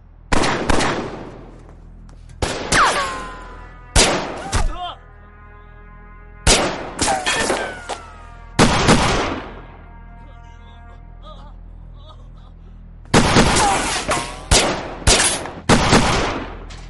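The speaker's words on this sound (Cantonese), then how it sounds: "向天開槍啊！" Loud gunshots fired into the air ring out in scattered single blasts and quick clusters, echoing between them.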